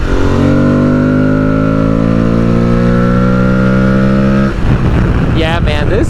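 An Aprilia Tuareg 660 motorcycle engine drones steadily while riding, its pitch rising through the gears before a sharp shift and roughening near the end, loud and close throughout.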